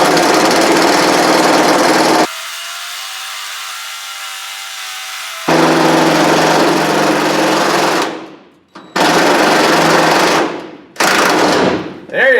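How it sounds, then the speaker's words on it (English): An impact wrench works rusty bolts on the rotten trunk lid of a junkyard Cadillac, firing in loud, harsh rattling bursts with short pauses between them and one quieter stretch. It runs alone, with no voices. "I'll use the impact on it and do it real lightly to try to shake them loose"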